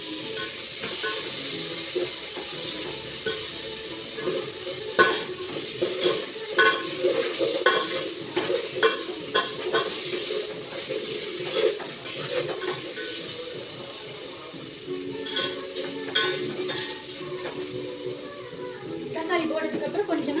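Tomatoes sautéing in oil with ginger garlic paste, heard as a steady sizzle in a pan with repeated scraping stir strokes, close and clear, while a voice talks over it at times.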